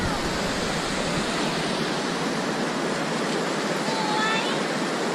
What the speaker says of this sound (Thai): นี่ถึงแล้วครับน้ำตกชะแน